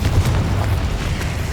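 An Incendio fire spell cast in Hogwarts Legacy gives a loud, deep booming whoosh of flame that holds steady for a moment, close and forceful, with no talk.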